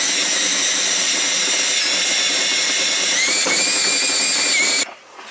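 A power drill driving a 3/8 bit into the hood of a 2020 Freightliner Cascadia truck, a loud steady high whine held for about five seconds before it stops abruptly.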